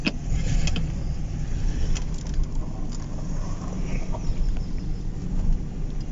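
Ford F150 pickup idling steadily, its engine a low, continuous rumble close by, with faint mechanical clicks as it is shifted into drive while the brake is held.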